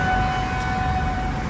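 A train passing through a railway station in Pattaya, Thailand, a loud, steady low rumble of rolling wagons with a sustained horn-like tone running through, close by and alone.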